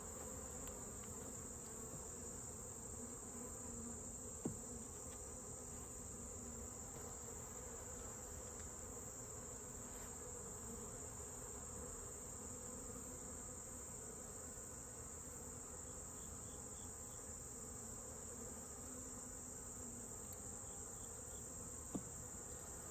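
Honeybees from a late-summer colony humming at an open hive, a faint, continuous buzz that stays even throughout with only an occasional soft click.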